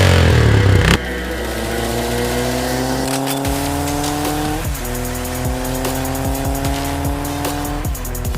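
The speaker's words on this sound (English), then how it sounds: "I already hear his motorcycle." A 2.3hp Honda motorcycle engine roars and revs loudly and close, rising in pitch through the gears with a squealing edge, no voices heard.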